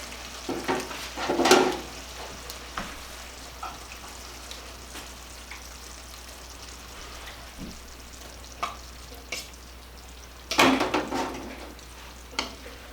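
Hawaiian meatballs in a pan with pineapple chunks give a soft steady sizzle, with a few louder stirring clatters and splashes as the fruit goes in, fairly quiet and close.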